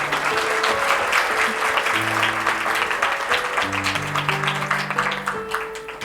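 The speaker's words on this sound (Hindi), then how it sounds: "ताली तो बजा दीजिए।" Sustained audience applause at a spiritual satsang gathering in Haridwar, a dense crowd of clapping hands filling the room, loud and steady throughout.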